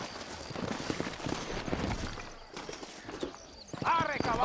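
A horse galloping in the video game Red Dead Redemption, rapid rhythmic hoofbeats under game sound and dialogue, ending with a loud horse whinny.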